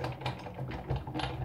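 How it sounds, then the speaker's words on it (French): A Big Shot die-cutting machine cuts through card with a soft, faint crackling, a few quiet snapping clicks spread across a brief moment without talk. "vous entendez le petit craquement caractéristique de la Big Shot qui montre simplement que le papier a été découpé"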